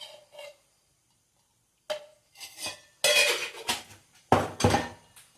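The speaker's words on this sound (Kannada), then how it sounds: "ಕುಕ್ಕರ್ಗೆ 1 ಸ್ಪೂನ್ ತುಪ್ಪ ಹಾಕ್ತಾಯಿದ್ದೀನಿ" Ghee is spooned into a pressure cooker for jackfruit biryani, a few sharp metallic clinks and scrapes of a spoon against the pot, sparse at first and then bunched into louder clattering bursts.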